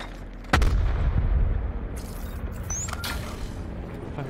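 A single loud, close grenade explosion in a video game shooter, striking sharply and then giving way to a long rumbling decay with faint scattered debris noise.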